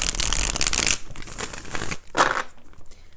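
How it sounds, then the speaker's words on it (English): Tarot cards shuffled by hand in quick riffling bursts, a dense papery flutter for the first second followed by softer shuffling and another brief riffle, close and without talk. "let's go ahead and do 4 shuffles"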